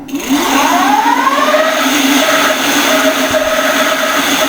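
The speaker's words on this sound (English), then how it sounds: "So I put this on mode 5, lift the rear tire here." The rear hub motor of an EBC Model R electric cruiser e-bike spins the lifted rear wheel at mode 5, a loud steady whine that rises in pitch as it speeds up, with a constant whirring hum.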